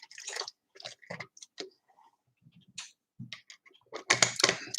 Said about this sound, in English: typing something over there